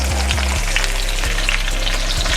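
Peppers and onions frying in a pan for a stovetop salmon dish, a steady close sizzle with low hum underneath and no talk.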